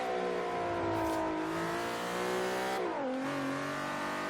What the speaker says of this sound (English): Love the sound of this VQ.